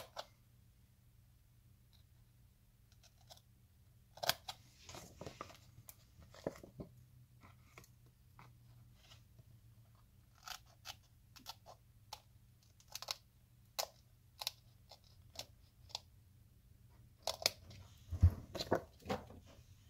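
Scissors snipping through a sheet of polarized filter film for a Casio World Time watch modification, a series of short, sharp cuts at irregular intervals, fairly quiet and close, with no talking.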